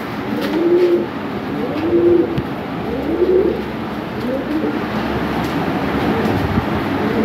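Lahori pigeons cooing in a loft, several soft rolling coos repeating about every second and a half, close over a low background rumble.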